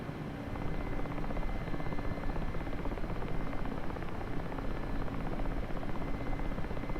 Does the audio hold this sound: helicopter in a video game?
yes